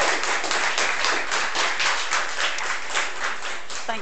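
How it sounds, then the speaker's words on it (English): A small group claps in steady, lively applause during a World Suicide Prevention Day discussion panel held over Skype, close and continuous for a few seconds. "spontaneous applause."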